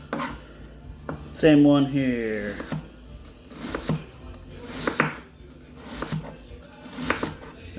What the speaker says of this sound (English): now I can cut it this direction, and I get a bunch of little onions, diced onions basically